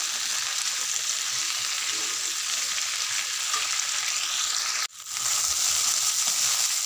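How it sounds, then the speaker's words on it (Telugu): Okra masala frying in a pan, giving a steady, loud, close sizzle that runs throughout, with one brief dip before it resumes. "ఒక 2-3 నిమిషాలు ఇలా వేపుకోవాలి"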